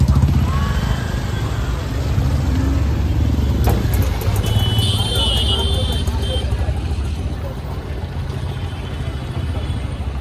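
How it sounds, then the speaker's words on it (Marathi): Road traffic in a full standstill jam rumbles steadily with idling and slow-moving engines, a horn-like tone sounding briefly, while people talk nearby. "बघू शकता हे बघा ट्रॅफिक किती जाम आहे फुल चक्का जाम ट्रॅफिक"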